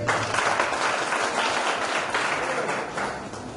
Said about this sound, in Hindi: एक बार उनके लिए तालियां बजाएं